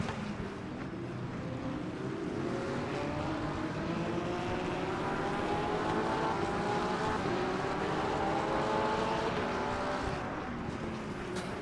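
A Porsche GT3 race car in the racing game Le Mans Ultimate roars past during an online GT3 sprint, its engine note rising and sweeping in pitch as it closes in and goes by, loud and sustained, with no talking.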